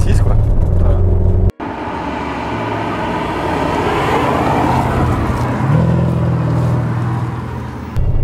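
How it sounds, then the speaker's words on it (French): A naturally aspirated car engine rumbles as it pulls hard, a loud cabin-heard growl rising steadily in pitch across several seconds, with a brief gear-change dip early on. "il y a le grondement du moteur"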